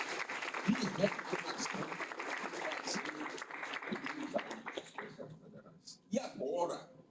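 An audience applauds a federal appeals judge at a courthouse ceremony, steady moderate clapping that thins out and nearly stops toward the end, after which a voice speaks briefly.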